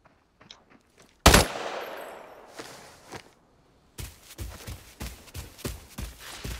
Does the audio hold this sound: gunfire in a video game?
yes